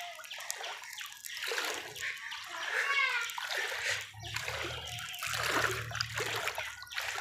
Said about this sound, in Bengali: এই ঘরে পানি উঠছে